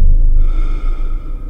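A man gasps and breathes heavily, one sharp, close intake of air followed by ragged, uneven breaths.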